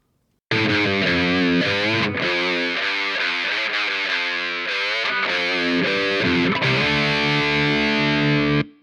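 A heavily distorted electric guitar plays chords and riffs through the Amplitube 5 channel strip with its high-pass filter engaged, loud and sustained, starting abruptly and ringing alone.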